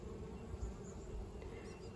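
Honeybees humming steadily around a top bar hive during an inspection, a soft, continuous close buzz with faint drifting tones and no speech.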